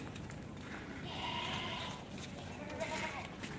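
Goats bleat a few times over a noisy outdoor background, the calls drawn out and moderately close.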